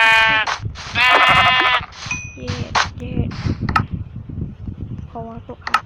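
Sheep bleat loudly and nearby in several wavering cries, with a metallic ding and clanging mixed in while someone talks over and between the calls.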